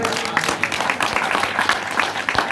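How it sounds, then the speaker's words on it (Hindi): A congregation claps during a sermon, a brisk, dense patter of many hands that stays steady from start to finish. "बजाइए तालियां।"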